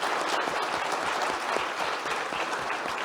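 A panel audience at a high-level institutional dialogue applauds the panelists with dense, steady clapping that fills the room evenly from start to finish, with no voice above it.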